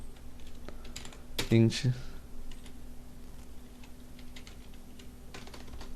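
Keys clatter on a computer keyboard as code is typed, a short dense burst of clicks near the middle, with a voice talking before and after.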